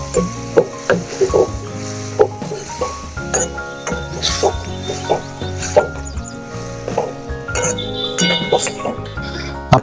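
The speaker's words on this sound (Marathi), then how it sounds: "तर आता याच्यात थोडं पाणी टाकून देऊया." Water hits hot peanuts that were fried in a pan for a Satara-style peanut curry, giving a crackling sizzle with repeated metallic clinks of stirring and a voice talking at times.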